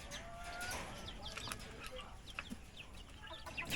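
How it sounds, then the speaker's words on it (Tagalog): Chickens cluck softly in a noisy outdoor setting, with scattered short calls and faint rustling throughout. "mga maamo na mga manok"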